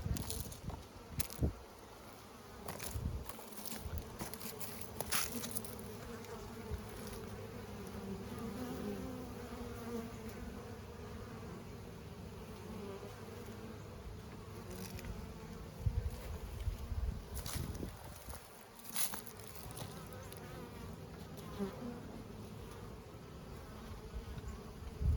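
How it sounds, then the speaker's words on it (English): Honeybees buzz around outdoor beehives in fall, some carrying goldenrod pollen, in a dense, continuous swarm drone with individual bees swelling close past now and then amid faint outdoor rustle. "Some of these bees are testy."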